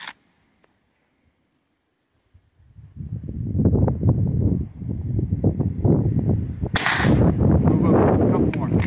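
An 1892 Winchester rifle firing at a shooting stage, heard as loud, rapid repeated sharp reports after a near-silent start, with a piercing high burst near the end.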